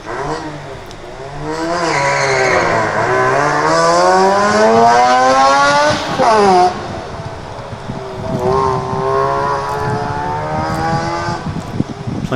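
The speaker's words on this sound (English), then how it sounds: "Plenty of rotary revs happening there." A rotary-engined race car at Ringwood Park revs hard and climbs through the gears, its high buzzing note rising and dropping repeatedly, loud and close with some wind noise.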